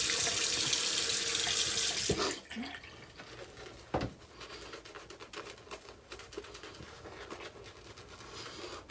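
Water from a tap runs into a bathroom sink before a face is wetted for a shave, first as a loud steady gush that cuts off, then as splashes and drips close by.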